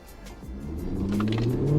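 A 2012 Hyundai Genesis 5.0 R-Spec with traction control off launching from about 1,000 RPM on a chilly day: the engine note rises steadily into a loud, close revving roar.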